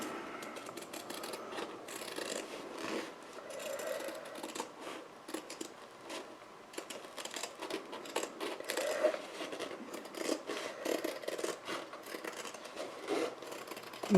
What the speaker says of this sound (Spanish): a ver si me encuentro unas tijeras que corten. Estas cortan mejor. Entonces lo voy recortando.